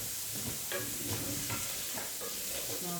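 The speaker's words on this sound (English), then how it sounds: "Keep stirring that up" A spoon scrapes and stirs soup in a pot during a home cooking class, with soft irregular clinks and swishes over a steady sizzling hiss.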